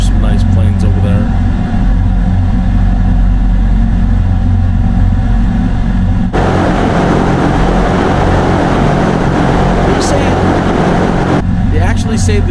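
In a flight video game, the electric engines of an eVTOL aircraft give a loud, constant whirring drone with a harsher, louder rushing section in the middle. A voice is heard over it.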